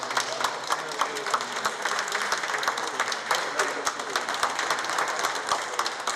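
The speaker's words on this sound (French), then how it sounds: "C'est sous les applaudissements qu'il a fait son entrée ce mercredi matin dans le palais présidentiel." Steady applause from a crowd as Prime Minister Amadou Gon Coulibaly enters the presidential palace: dense, continuous clapping throughout, with a voice speaking over it.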